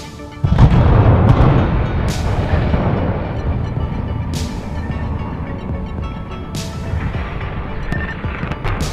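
A smokestack at the Nanticoke generating station is brought down by demolition charges: a sudden heavy boom, then a long rolling rumble with scattered sharp cracks and pops echoing across the distance.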